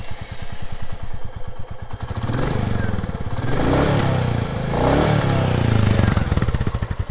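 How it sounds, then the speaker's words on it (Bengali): A Royal Enfield Classic 350 BS6 motorcycle idles with a steady thumping exhaust pulse, then revs up in several loud rising surges close by before settling back. "এখন বাইকটির এক্সস্ট নোটটি একটু শুনে নেওয়া যাক।"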